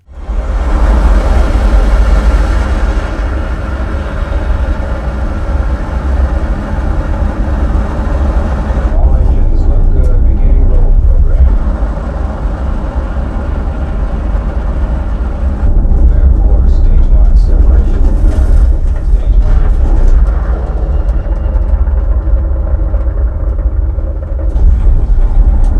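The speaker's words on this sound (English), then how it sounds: "I'm still amazed at how great the KF92s handled the shuttle takeoff." Deep, heavy rumble of the shuttle takeoff from Interstellar played through a KEF KF92 subwoofer, a loud sustained low-end roar that swells and shifts across the whole stretch, with no talk.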